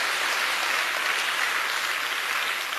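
Congregation at a Sacred Heart congress clapping hands together to approve a resolution, a dense, steady wash of applause from a large crowd heard on its own.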